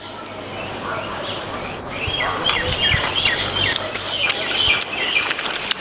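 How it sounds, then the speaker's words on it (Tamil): Birds chirp and call among fruit trees outdoors, scattered short tweets at moderate distance over a constant insect-like buzz and rustling ambience. "ஏன்னா பறவைகள்லாம் பார்த்திங்கன்னா நிறையா இருக்குது பாருங்கள். சவுண்டு கேட்குது இல்லைங்களா?"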